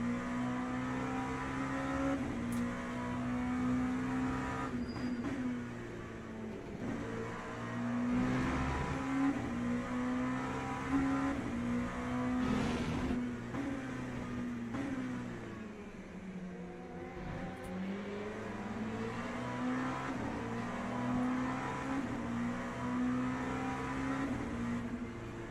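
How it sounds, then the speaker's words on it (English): An LMP2 prototype race car in the Le Mans Ultimate sim whines continuously as its engine climbs through the revs, with gear changes and pitch dips and rises, loud and steady from an onboard view, with no voices. "It's crazy how little acceleration the LMP2 has"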